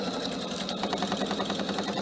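PFA sewing machine running a straight-stitch seam through fabric for a cushion cover, a steady close rapid mechanical whir with a fine even needle rhythm throughout.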